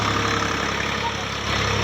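A tractor engine idles at a steady, even pace, a continuous low mechanical hum with no break and no voices over it.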